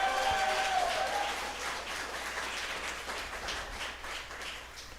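A church congregation applauds together, a steady wash of clapping that holds loud at first, then eases slightly and continues evenly for several seconds with no one speaking.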